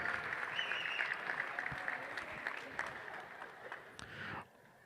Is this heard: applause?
yes